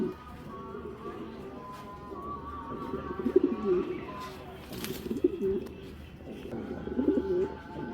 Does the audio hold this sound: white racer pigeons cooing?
yes